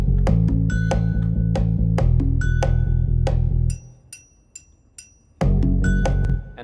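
A loud MIDI percussion groove with a deep sustained bass line pulses steadily; the bass drops out briefly, leaving sparse clicks, then the full beat returns.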